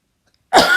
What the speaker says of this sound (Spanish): Vaya tela con la tos